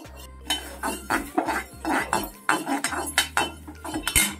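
Fenugreek, fennel and dried chilies dry roasting in an empty wok, with rapid rattling clinks and scraping of a metal spatula in uneven bursts over a low steady hum.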